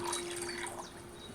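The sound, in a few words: pouring wine into a cauldron, Kingdom Come Deliverance II video game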